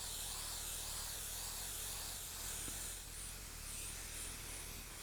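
A spray gun flocking a Volkswagen GTI headliner hisses continuously, spraying poorly, a steady airy spray with slight pulsing, fairly faint and unbroken throughout.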